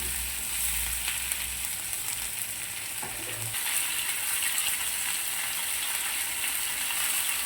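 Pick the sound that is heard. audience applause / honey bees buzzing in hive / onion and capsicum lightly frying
onion and capsicum lightly frying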